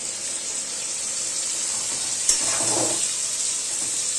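Potatoes fry in a pan with poppy seeds for Bankura-style aloo posto, giving a steady, even hiss with one brief utensil clink partway through and a short swell of bubbling after it.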